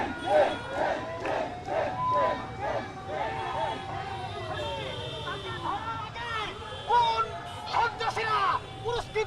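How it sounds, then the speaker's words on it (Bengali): Students chant slogans in front of Shahbag police station, a loud crowd of voices rising and falling in rhythmic rounds of shouting, with overlapping calls and nearby talk. "তারা বিভিন্ন ধরনের স্লোগান দিচ্ছে।"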